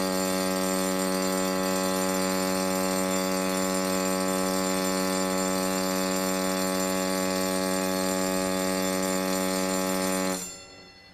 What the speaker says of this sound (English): The general alarm for fire and emergency sounds like this.